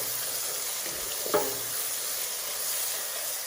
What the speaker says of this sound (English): I'm going to be adding in the ginger and garlic paste.